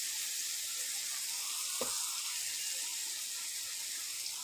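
Spices sautéing in a pan for a soybean and potato curry give a steady, soft sizzle and hiss, fairly close and continuous, with a brief faint clink partway through.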